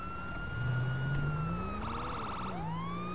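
Police car siren in the video game GTA 5, a loud wailing tone that sweeps and then shifts into a rapid warbling yelp before returning to a wail, over steady traffic noise.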